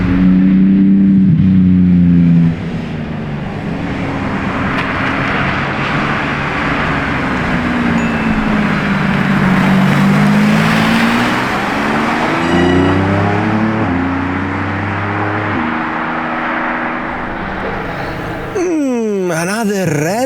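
A right-hand-drive red Lamborghini Urus SE revs loudly and close, a deep engine note that rises and falls across the whole stretch with a sharp rev flare near the end. A voice talks over it.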